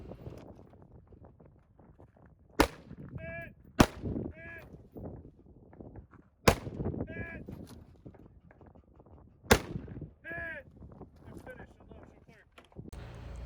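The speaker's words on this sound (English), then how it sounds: "I have to engage those same 6 targets, then 4 targets out at 200 to 300 yards." Rifle shots crack sharply four times at a shooting match, each followed by a faint ringing clang from steel targets far downrange, spaced a few seconds apart over quiet background rustle.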